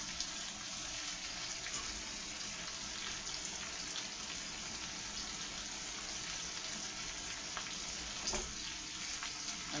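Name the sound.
butter sizzling in a pan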